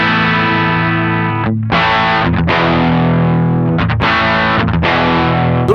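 Electric guitar played through a VOX amPlug3 headphone amp with volume, gain and tone all at ten, giving dense, heavily distorted sustained chords with a few quick breaks between strums, loud and alone.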